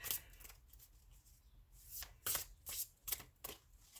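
Tarot cards are shuffled close up in several quick riffling bursts, papery rustles spaced irregularly with short pauses between.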